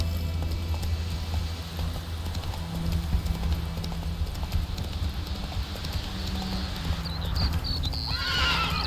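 Roach, a horse in The Witcher 3 video game, trots with a steady clip-clop of hooves over ambient game sound and lets out a loud whinny near the end.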